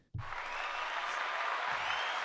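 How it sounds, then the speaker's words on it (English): A burst of recorded applause starts abruptly and continues as a dense, steady wash of clapping from a crowd for about two seconds. "Got the clap track going."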